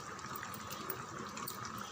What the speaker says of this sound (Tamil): இந்த ஜாரில் கொஞ்சம் தண்ணி விட்டு சேர்த்துருங்க.